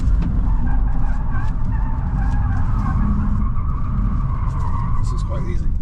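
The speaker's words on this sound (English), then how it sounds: "I'll put a little bit of me laughing and smoking the tyres in here." A 2025 Hyundai Ioniq 5 N drifting in a car park at Thruxton, tyres squealing and smoking, a loud sustained wavering screech over constant rumbling road and wind noise, close and continuous throughout.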